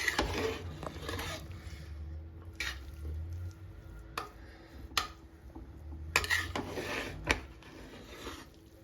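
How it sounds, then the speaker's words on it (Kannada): A spoon stirs soya chunks biryani in a pressure cooker, scraping and squishing through the rice in steady strokes with occasional sharp metallic knocks against the pot, close and moderately loud. "ಈಗ ಇದನ್ನು ಸ್ವಲ್ಪ ಮಿಕ್ಸ್ ಮಾಡೋಣ"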